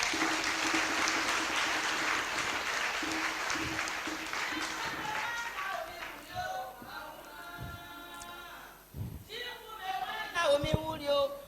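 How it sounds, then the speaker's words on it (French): A church congregation at an Ivorian service claps loudly together for several seconds, the applause thinning out as voices and singing rise over it. "On va applaudir Dieu pour ça."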